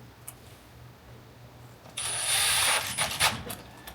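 A power driver runs a screw into an exterior door to hold the handle latch, a short whirring buzz of about a second after quiet clicks, close by.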